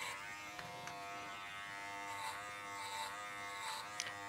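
A KM10 detachable-blade dog clipper runs steadily through a goldendoodle's thick coat, giving a continuous close electric buzz with a slight rise and fall in pitch as it cuts, heard alone.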